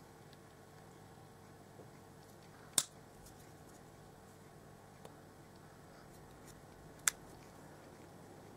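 A Gundam model kit part is snipped from its plastic runner, two sharp close clicks several seconds apart with a fainter tick between, over quiet room hiss.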